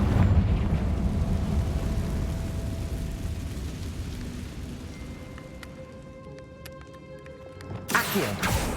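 Confringo spell explosion in the video game Hogwarts Legacy: a dense rumbling blast that slowly decays, followed by scattered bright debris chimes and a sharp burst near the end.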